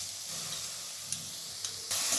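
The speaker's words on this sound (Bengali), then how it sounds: "আমি আদা রসুনের পেস্টটাকেও ভালোভাবে কষিয়ে নিচ্ছি।" Ginger garlic paste sizzles and fries with onion paste in a hot pan, a steady hiss broken by a few sharp spatters and stirring sounds near the end.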